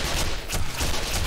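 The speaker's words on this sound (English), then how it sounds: "I'm hearing gunfire, but I don't see from where." Rapid gunfire in Black Mesa rattles continuously in a dense, noisy burst, sounding loud and close with no talk over it.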